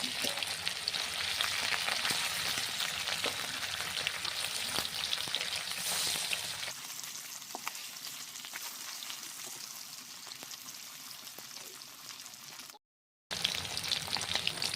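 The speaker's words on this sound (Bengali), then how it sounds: "মাছগুলোকে কিন্তু খুব বেশি ভাজলে হবে না হালকা করে ভেজে নিতে হবে" Sating fish sizzle and fry in a pan of hot oil, a steady close crackle that holds for the whole stretch, dropping slightly in body midway and cutting out briefly near the end before resuming.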